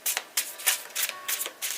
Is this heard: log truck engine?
no